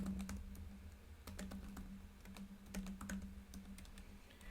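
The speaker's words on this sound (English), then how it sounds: "If you just start typing in the console, 123, enter, then it'll work" Keys clatter on a computer keyboard in an irregular run of close, crisp clicks, typing into a Java program's console in Eclipse, with a low steady hum underneath.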